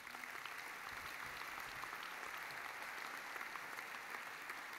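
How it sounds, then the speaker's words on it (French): A large hall of French mayors at their annual congress applauds, steady broadband clapping from many hands, fairly distant and soft, with no speech on top. "Et les maires de France ici présents vous applaudissent pour votre présence parmi nous."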